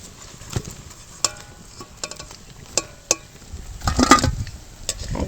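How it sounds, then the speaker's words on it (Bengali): Cauliflower pakoras frying in hot oil, a soft low patter of bubbling with scattered clinks and scrapes of a utensil against the pan, swelling into a denser sizzle toward the end, heard close with no talk. "এইভাবে সমস্ত পকোড়াগুলো আমরা ভেজে নেব।"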